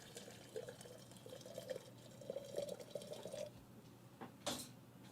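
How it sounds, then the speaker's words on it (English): Hot, freshly boiled water poured from a brew kettle while preparing coffee, a soft steady trickle and splash with a few drips, fairly quiet and close, ending with a couple of brief louder splashes. "I'm going to transfer the water from the brew kettle,"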